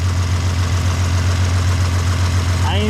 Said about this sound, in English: my exhaust leak's right here. I feel it coming out right here, so it's coming out of the manifold